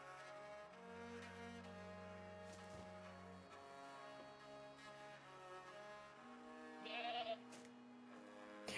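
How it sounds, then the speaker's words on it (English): Goats in the video game Reka bleat over soft background music, several wavering bleats at moderate distance, faint under the melody. "Oh, we got some goats."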